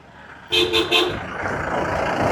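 Vehicle horns honk in three quick, loud toots from passing traffic on a rough, partly unpaved road near a temple, followed by steady road and engine noise.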